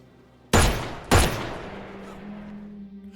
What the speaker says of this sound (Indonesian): Pada akhirnya Donnie menghabisi Frank dengan beberapa kali tembakan